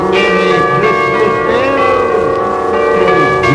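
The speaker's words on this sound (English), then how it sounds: "dear old Christmas bells" Christmas church bells peal with rich, sustained ringing tones, several bells overlapping steadily and loudly throughout with no voices.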